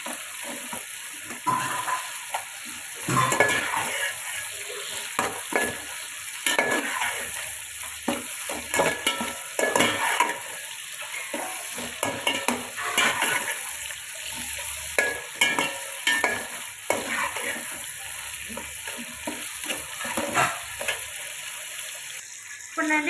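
Onions frying with ginger garlic paste and chilli powder, stirred continuously in a pot for a chicken pulav, giving a constant close sizzle cut by frequent scraping and clattering spatula strokes.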